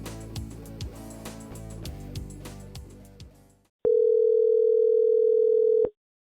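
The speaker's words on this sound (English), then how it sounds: "Wonder Woman calls the IRS department to hopefully avoid some jail time" Steady telephone ringback tone while a call to the IRS connects, one sustained two-second ring at a single clear pitch, heard alone after a stretch of music fades out.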